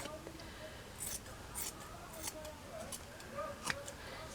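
Scissors trim a small fabric piece for a miniature slipper, giving a series of quiet, close, crisp snips at irregular intervals over a soft background with low talking.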